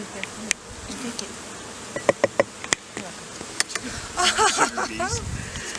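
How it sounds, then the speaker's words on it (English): Honeybees dusted in powdered sugar fan their wings after being returned to the colony, a buzzing drone broken by sharp clicks and taps. A person speaks over it near the end. "they're fanning their wings, partly to get that powdered sugar off"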